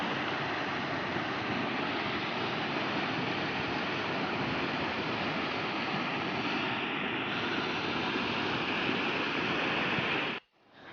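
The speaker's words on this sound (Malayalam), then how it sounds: "ഇവിടെ വെള്ളച്ചാട്ടത്തിനേക്കാളും രസം ഈ വെള്ളം ഒഴുകി പോണ കാണാനാണ്" Water rushes continuously below a waterfall in a forest stream along the Marayoor sandalwood forest route to Kandhaloor, a dense, steady broadband roar close by that cuts off abruptly at the end.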